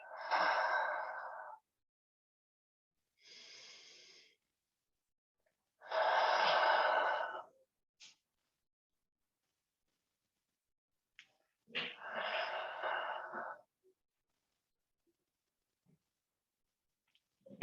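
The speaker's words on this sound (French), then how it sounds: "Si tu as envie, tu expires par la bouche." Slow breaths exhaled through the mouth during a yin yoga thigh stretch, four soft airy whooshes spaced a few seconds apart, close and alone with no talking.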